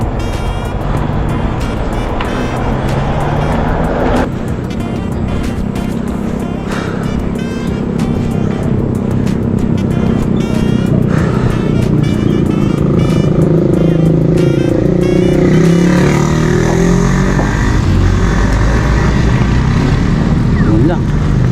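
Motorcycle riding along a quiet road in Batangas, with a steady engine drone and wind rush throughout, a shift in engine pitch partway through, and a voice talking over the ride.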